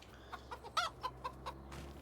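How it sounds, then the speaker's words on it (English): Chickens clucking in a Farming Simulator 25 farm, a string of short, soft clucks and squawks at an irregular rhythm over a low steady hum, with no talking. "Just hanging out with my chickens."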